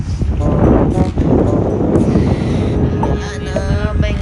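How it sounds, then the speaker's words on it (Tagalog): Strong wind gusts buffet a cottage area in cold weather, a steady broadband roar with microphone buffeting throughout, close and loud, with faint background voices underneath. "Kasi mahangin."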